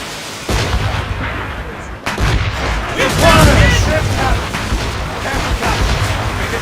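Naval cannon volleys fire in an Assassin's Creed Rogue sea battle, with repeated heavy booms and crackling blasts rolling over one another. Shouted voices are heard among the shots.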